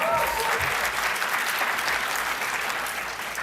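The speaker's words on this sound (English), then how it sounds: "Give him a round of applause." An audience bursts into dense, sustained applause, many hands clapping loudly together before it begins to taper off at the end.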